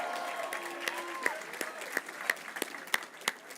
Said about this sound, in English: Thank you for that round of applause for our LMU family.